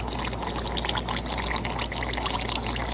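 Water flows slowly and steadily into a 3D-printed fry tray for blackworms, making a continuous close trickling pour that holds at an even level with no voices.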